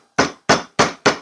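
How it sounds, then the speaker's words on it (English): Chasing hammer flattening and paddling out the ends of a metal bar on a steel bench block, four sharp, ringing strikes at an even pace, close and loud with short decays. "we're going to take the bench block back in with a chasing hammer"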